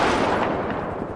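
Dense, loud gunfire in a roleplay video game: rapid overlapping shots and bursts roll on without a break, with no talking.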